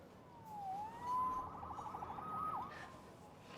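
A police siren in the video game Marvel's Spider-Man Remastered wails faintly in the distance, its tone sweeping up and down over a few seconds against a low background.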